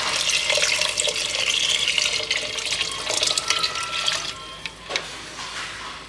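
Tap water runs steadily and fairly loudly into a blender jar being rinsed in a kitchen sink, splashing and then tapering off into a few scattered drips, with no talking.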